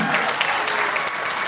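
Wedding guests burst into steady, dense applause at a reception after a toast, a continuous wash of clapping from a nearby crowd with no talk over it.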